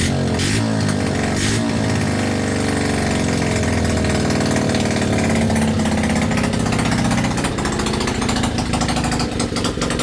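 A cheap monkey bike engine runs continuously after a repair, smoking from excess oil, with a loud, steady, buzzing small-engine drone close by throughout.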